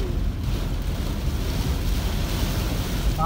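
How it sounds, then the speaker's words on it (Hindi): Heavy rain pours down steadily in Gwalior, a dense continuous hiss with no talk, loud and close throughout. "अरे पानी बहुत तेज गिर रहा है"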